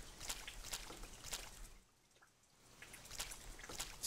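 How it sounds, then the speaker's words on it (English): Rainfall in the survival horror game Silent Hill 4: The Room, a soft steady watery patter that briefly thins and drops away before returning, faint and heard alone. "Why is it raining?"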